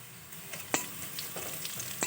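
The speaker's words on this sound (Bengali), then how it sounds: "এবার আমি এর মধ্যে দিয়ে দেবো কাঁচা লঙ্কাটা" Green chillies sizzling in a pan of fried onions, a steady soft hiss broken by a few sharp crackles and pops, heard close with no voices.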